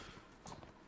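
Horse hooves clip-clopping in a video game, a short, soft burst of steady hoof beats under faint background noise.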